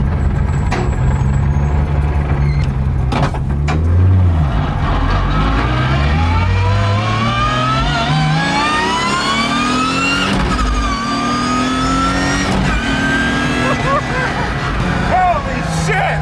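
BMW E36 rally car with a dog box gearbox, its engine revving loudly through climbing and falling pitch sweeps with gear whine, close up on a street while people talk and exclaim over it.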